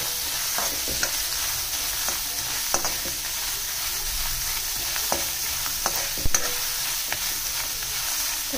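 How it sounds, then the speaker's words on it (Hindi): Onions frying in a pan with cumin, a loud, steady, close sizzle with occasional scraping knocks of a spoon as they are stirred, and no speech. "इसके साथ ही मैं डाल रही हूँ प्याज, तो प्याज को थोड़ा सा सॉफ्ट कर लूंगी।"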